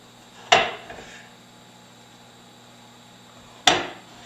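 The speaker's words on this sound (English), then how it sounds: "So I'll just put these face side down right onto this pan." Two spaghetti squash halves set face down onto a baking pan, each landing as a single sharp clattering knock, the second about three seconds after the first, with near silence in between.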